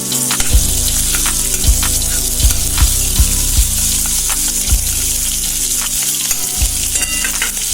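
Ground ginger frying in hot oil, a loud close sizzle over a low hum with repeated spoon strikes against the pan at an uneven rhythm; nobody speaks.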